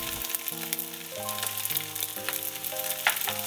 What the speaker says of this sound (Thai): ผัดจนทั่วก็ใช้ได้